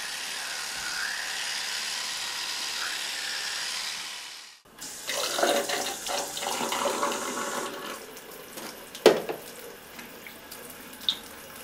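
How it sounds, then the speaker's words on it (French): Water runs steadily from a bathroom tap during tooth brushing, a continuous hiss of flow that drops out briefly midway then resumes with splashing and a couple of sharp clinks near the sink. "sans laisser couler le robinet tout au long du brossage"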